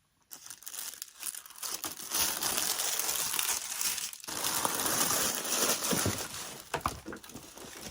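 Pleated tissue-style paper inside a Dior luxury package crinkles and rustles continuously as it is unwrapped, close and fairly loud, with one short pause partway through.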